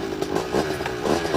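A motorcycle engine revs and rattles close by as it pulls away, loud and uneven over a brief stretch, without talk.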